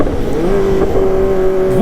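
Kawasaki ZX25RR motorcycles rev on the road with a loud, close, high-pitched engine note that holds steady, then rises sharply at the end.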